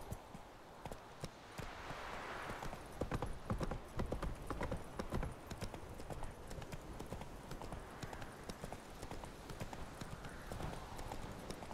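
Roach the horse gallops in the video game The Witcher 3, with rapid rhythmic hoofbeats pounding steadily and close for about twelve seconds and occasional thumps and rustle over a quiet background.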